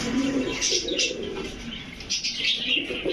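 Pigeons coo softly amid a busy, noisy background of fluttering and chirping birds, continuous throughout.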